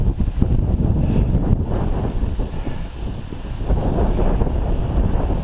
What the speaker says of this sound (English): that wind that's coming down off the top